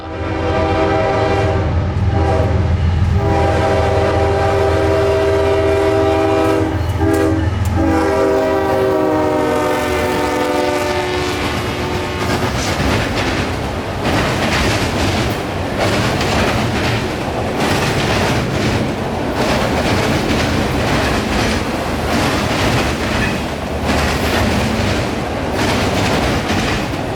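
An empty autorack freight train, Q214, passes loud and close at night, sounding a long sustained multi-tone horn before the steady rolling roar and rattle of its cars continues.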